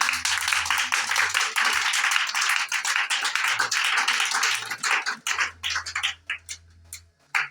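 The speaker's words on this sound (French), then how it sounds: "Acclame Jésus" A church congregation claps together in praise of Jesus, a dense and steady run of close, rhythmic handclaps that thins into scattered, louder individual claps near the end.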